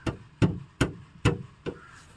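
A metal wire under a chair is pressed with a foot, giving five separate dull knocking thuds at a steady, fairly close rhythm with no talking.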